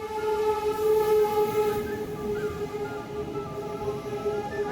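A passenger train pulling into a German railway station, with a steady rolling rumble and sustained high tonal squeals from the wheels and brakes that hold and then fade slightly. The sound is continuous and close.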